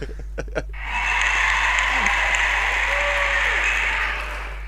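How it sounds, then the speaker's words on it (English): A pre-recorded crowd audience sound plays from a button press, a steady wash of cheering and applause that lasts a few seconds and then fades. A few short clicks come before it, and a low hum runs underneath. "it just plays a Katy Perry crowd audience"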